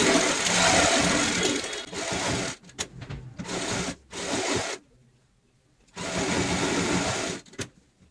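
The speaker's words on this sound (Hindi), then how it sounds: "अब हम एक साइड से यहाँ पे सिलाई लगाएंगे" A sewing machine runs in loud, steady bursts while stitching a cushion cover seam, stopping briefly several times and pausing for a longer quiet stretch before starting up again.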